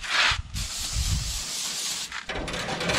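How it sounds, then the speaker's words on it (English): Smoker racks being sprayed down outdoors, a steady rushing hiss with brief breaks and shifts in tone over about three seconds, fairly close and loud with no talk. "Spray these racks down."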